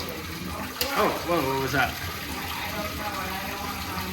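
Flood water rushes steadily into a pit on a beach, a continuous loud wash of churning water, with a person's startled exclamations briefly over it.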